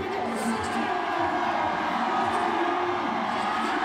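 Arena crowd at a strongman max deadlift event at the Rogue Invitational roars and cheers continuously, a dense, loud wall of cheering and whoops, with an announcer's voice mixed in.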